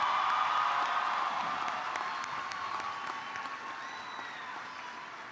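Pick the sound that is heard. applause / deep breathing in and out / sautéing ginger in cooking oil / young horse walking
applause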